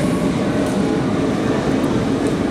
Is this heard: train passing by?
yes